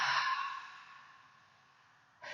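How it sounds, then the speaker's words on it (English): One deep breath during a gentle yoga practice: a loud airy inhale at the start that fades into a long quiet exhale, then a fresh breath begins at the end. "One more big inhale and exhale."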